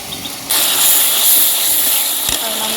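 Spice paste hitting a hot pan while cooking pumpkin with pangas fish: a sudden loud, steady sizzle and hiss that holds to the end, with a brief clatter near the close.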